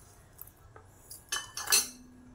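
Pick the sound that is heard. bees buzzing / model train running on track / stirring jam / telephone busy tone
stirring jam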